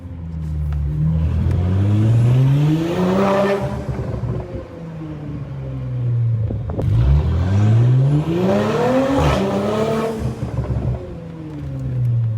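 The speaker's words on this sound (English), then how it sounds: "It sounds like a straight pipe GTR" Loud Audi S4/S5 exhaust on a straight-pipe style setup, revving hard twice with rising, raspy engine pitch, each rev swelling up and dropping back to a burbling idle.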